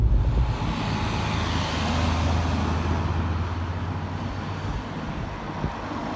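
Inside a car pulling away from a roundabout, a steady engine and road rumble holds at moderate loudness with a slight rise in drive. It sounds continuous and close, with no talking.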